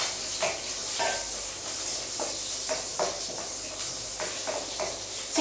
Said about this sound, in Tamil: வெங்காயத்தை சேர்த்து நல்லா வதக்கலாம்.